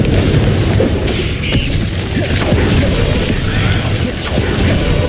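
A loud Confringo spell blast in the Hogwarts Legacy video game: booming explosive impacts and crashes repeat throughout amid busy combat noise, close and heavy, with no talking.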